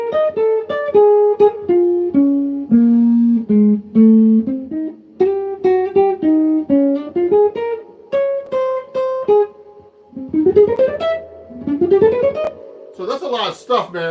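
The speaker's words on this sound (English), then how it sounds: "So that melody sounds like this if I'm playing it slow." A jazz tune played slowly as a solo melody on a sustained, harmonic-rich instrument, phrase after phrase, with a brief pause and a few bent sliding notes near the end; no talking.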